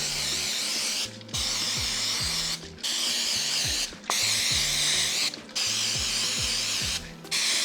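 Long bursts of steady hissing nonstick cooking spray coating donut pans, separated by brief pauses, close by, with a low mechanical rattle underneath.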